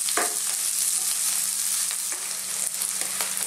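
Garlic and onion sautéing in a pan, a bright continuous close sizzle broken by a few sharp stirring scrapes and taps, loud and alone.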